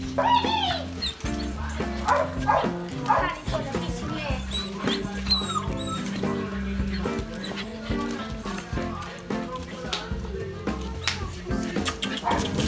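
Pitbull puppies let loose to play, yipping, whimpering and barking in quick bursts close by, with people talking over the lively scrabbling commotion throughout.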